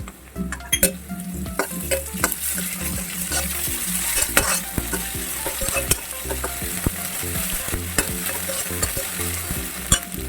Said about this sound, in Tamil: இஞ்சி பூண்டு பேஸ்ட்டு சேர்த்துக்கிறேன்